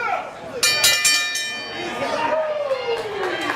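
Ring bell opening a professional wrestling match at an Inspire Pro event, a few quick metallic clangs ringing out over a noisy crowd, followed by commentary-style talk as the match gets underway.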